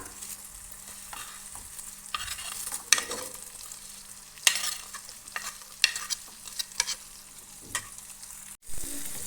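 Pre-fried beef is tipped into a pan of masala for a Kerala-style beef pickle and stirred. A soft continuous sizzle runs under irregular scraping and clacking stirs, one sharp knock near the end, with no voices.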